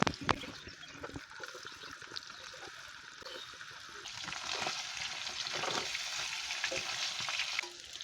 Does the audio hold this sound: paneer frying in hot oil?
yes